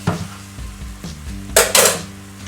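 Garlic added to cooked ground meat in an Instant Pot on sauté makes a moderate sizzle, with a few utensil scrapes and taps against the inner pot, closing in two loud bursts of clattering stirring.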